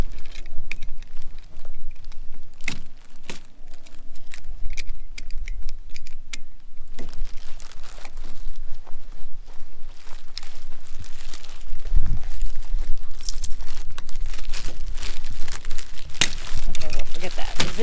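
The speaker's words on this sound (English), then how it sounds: "Let's take the plastic off." Plastic wrap being pulled off a Mustang Solo Tripper motorcycle seat for a Honda Rebel 500, with close, continuous crinkling and rustling throughout, loud and busy with scattered sharp crackles.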